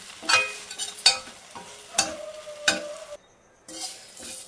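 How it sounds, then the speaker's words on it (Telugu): Drumstick leaves and curry leaves fry crisply in a large kadai, with a spatula scraping and stirring in bursts over a light sizzle. One short silent pause falls before the stirring resumes. "ఈ మునగాకు కరివేపాకు మంచిగా వేగింది క్రిస్పీగా అయింది"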